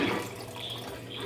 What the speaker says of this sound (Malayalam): അപ്പോൾ തേങ്ങാപ്പാൽ ഒഴിച്ചു കൊടുക്കുക, കുറച്ചായിട്ട് ഒഴിച്ചു കൊടുക്കണം.